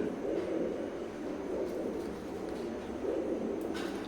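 Imported Teddy pigeons coo in soft, repeated low rounds close by, the calls rising and falling in a steady rhythm over a faint background hum.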